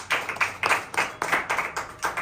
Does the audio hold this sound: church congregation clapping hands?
yes